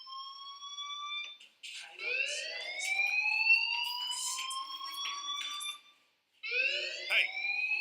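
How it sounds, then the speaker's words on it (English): A school fire alarm in the game Life Is Strange wails in rising, sweeping tones that repeat, pausing briefly before starting again, with a voice speaking faintly beneath it. "do you hear that fire alarm? That means you should be outside"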